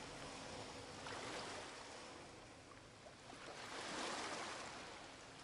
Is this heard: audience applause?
no